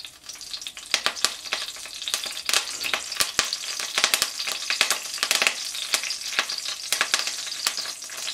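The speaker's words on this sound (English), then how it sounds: "Into that oil, I'm going to put in my curry leaves." Curry leaves hit hot oil in a pan and sizzle steadily, with sharp crackles and spitting pops scattered through a continuous frying hiss, close and clear with no voices.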